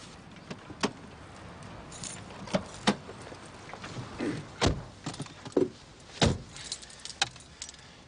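A large bunch of keys jangles and clinks in irregular bursts, close and fairly quiet, with a few sharp metallic jingles standing out over a soft background hiss.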